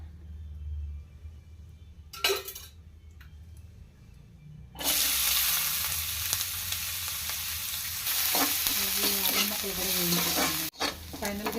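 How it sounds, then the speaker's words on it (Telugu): Ginger pieces frying in a little oil in a pan for a Telugu ginger chutney, starting with quiet handling and a few clinks, then a loud, steady sizzle that fills the rest, with stirring scrapes near the end. "దాంట్లో కొద్దిగా ఆయిల్ వేసుకొని అల్లం ముక్కలు కూడా వేయించేసుకున్నాను"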